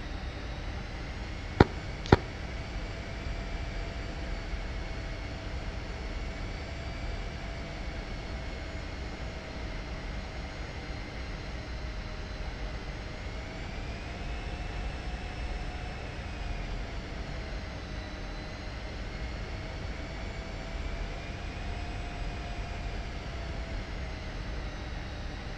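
F-16 jet in a flight simulator game, a steady, unbroken engine drone with a whining tone that slowly rises and falls, plus two sharp clicks near the start, no speech.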